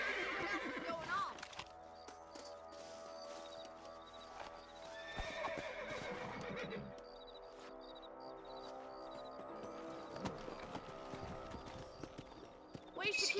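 Horse hooves clip-clop steadily along with a whinny and creaking tack in a video game, while people talk over the soundscape.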